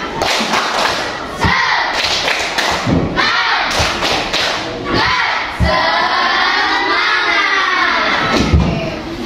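A class of Indonesian schoolchildren performs a rhythmic clapping chant, with loud, steady thumping claps and shouted children's voices chanting together throughout, close and energetic.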